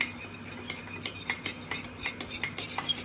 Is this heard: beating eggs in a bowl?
yes